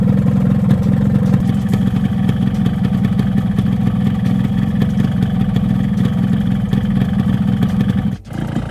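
A two-stroke motorcycle engine idling on Pikoli 2T racing oil, a loud, steady, close buzzing drone with a brief dip near the end.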